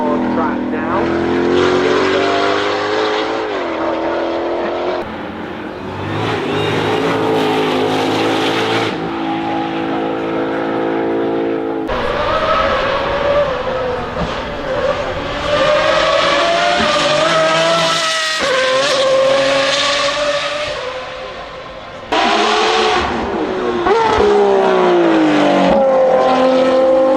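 A rear-wheel-drive supercar driven hard on a race track, its engine loud and close as it revs up and down through gear changes, with brief tire squeal and a voice speaking intermittently.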